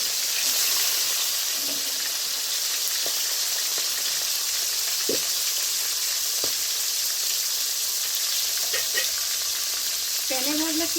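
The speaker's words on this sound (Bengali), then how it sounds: "আর এই কড়াই ভাজলে পরে সুন্দর হয়, মচমচে হয়।" Fish shallow-frying in oil in a kadai, a steady broadband sizzle running throughout with faint scrapes and clinks of a utensil now and then, close and moderately loud with no talk.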